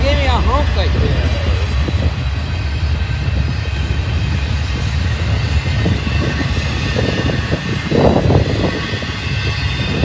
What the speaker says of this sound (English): That's on intermodal train.